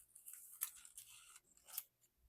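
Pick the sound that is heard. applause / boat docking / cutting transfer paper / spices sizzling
cutting transfer paper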